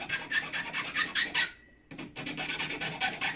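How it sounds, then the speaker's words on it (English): A small metal piece from a safety pin is filed on a bench block: close, rhythmic rasping strokes with a brief pause midway before the filing resumes. "I'm just going to put it right here on my bench block and file that down"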